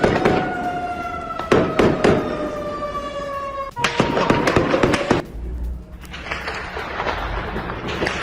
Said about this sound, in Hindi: ये देखिए, गोलीबारी की गूंज दूर दूर तक सुनाई दे रही है।